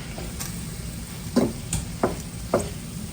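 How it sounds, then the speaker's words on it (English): Spices are stirred into food in a hot pan. Several scraping strokes land over a steady background sizzle, close up, with no talk. "Gonna sprinkle those in, and then give them a good stir"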